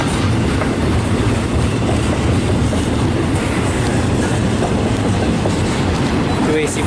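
Two AC-4400 freight locomotives lead a train past at a busy rail junction, a loud steady rumble with wheel clatter running the whole time and no pause.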